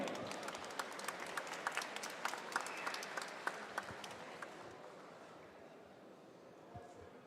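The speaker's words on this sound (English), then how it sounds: "Give a big round of applause for Georgi Kabulashvili" Crowd applause at an international MMA tournament as a fighter is introduced, a broad roar of clapping in a large venue that gradually fades after a few seconds, with voices underneath.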